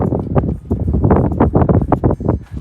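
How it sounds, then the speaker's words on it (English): Gusts of wind outdoors in Arizona buffet the microphone in loud, uneven bursts of low rumble and rustle, close and continuous throughout. "Sorry, it's a bit windy out today."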